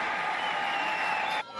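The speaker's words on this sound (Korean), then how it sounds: "원코리아를 외쳤던 제1동포들도 모든 선수들에게 뜨거운 박수를 보냈습니다" Spectators at the One Korea Cup applaud the players, a short, steady wash of crowd clapping that cuts off abruptly near the end.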